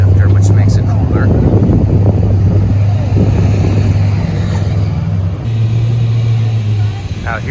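A 1969 Chevelle SS at a car show idles with a steady, deep engine rumble close by, under continuous wind buffeting and people talking in the background.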